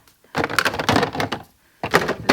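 A stuck drawer of makeup being yanked open, with two bursts of scraping, rattling thumps as it jerks and contents shift, loud and close.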